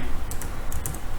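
Computer keyboard typing of C code for a switch statement, a few quick clustered keystroke clicks over a steady background, close and moderately loud, no talking.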